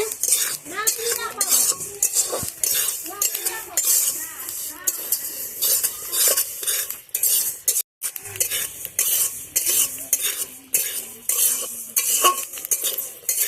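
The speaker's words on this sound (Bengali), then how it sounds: "আমার তিলগুলো ফুটফুট ফুটফুট করে ফুটছে, খুব সুন্দর করে ভাজা হচ্ছে" Sesame seeds roast in a pan while being stirred with a utensil, giving close, busy crackling, scraping and light clinks throughout, with a voice faintly present early on.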